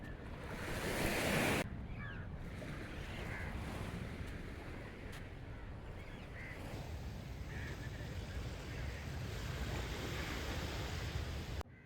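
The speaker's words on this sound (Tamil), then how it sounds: "morning Shivaji park beach vibe சூப்பராக இருக்கு" Morning waves at Shivaji Park beach in Mumbai, a steady broad wash of surf rolling in from close by, with faint bird calls in the background.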